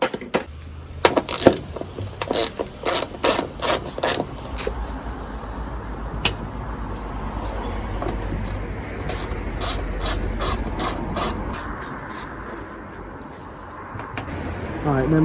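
Roof bar fittings on a Volkswagen Amarok being worked loose with an Allen key, a run of sharp metallic clicks and ratchety taps close by in the first half, then a steady low rumble of background noise.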